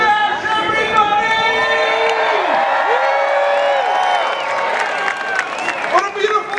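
A large outdoor street-fair crowd at the Hash Bash on Monroe Street, Ann Arbor: sustained whoops, shouts and cheering voices layered over a busy murmur, loud and close, with a few sharper yells toward the end.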